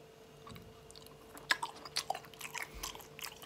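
Close, quiet chewing of soft Spanish mackerel sashimi dipped in chogochujang, with irregular wet bites and squishes spread over a few seconds.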